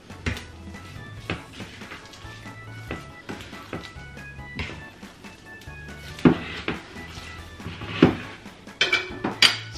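Food is stirred and coated in sauce in a pan, a series of close clinks and scrapes of a utensil against metal in an irregular rhythm, with a few louder knocks toward the end.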